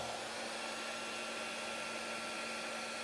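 A Harbor Freight Bauer cordless heat gun running steadily, a constant close blowing whir with a faint motor hum, unbroken for the whole few seconds.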